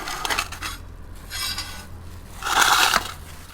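Bish kochu (taro) being cut for cooking, with repeated scraping and rasping knife strokes and a louder, denser stretch of cutting toward the end, close and alone without talk.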